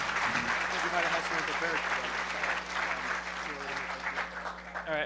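A crowd at a hacker conference applauds a pair of presenters, a steady, fairly distant wash of clapping with voices and a constant low hum running underneath.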